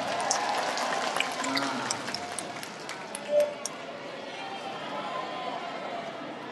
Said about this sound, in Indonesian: Semua relawan tepuk tangan.